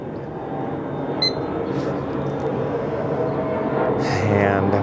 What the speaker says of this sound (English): And we have an airplane flying over right now.